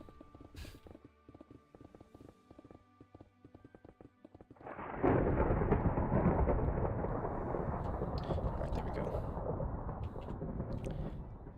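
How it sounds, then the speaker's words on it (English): A loud thunderstorm in Minecraft rolls in as a sudden deep rumbling swell that stays heavy and continuous, following quieter game sounds and brief speech. "Freaking thunderstorm, so loud."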